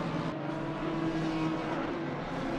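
Lexus and BMW race cars running close together on a circuit in a racing series round, a steady, continuous engine drone that holds at an even, fairly loud level throughout with no voices.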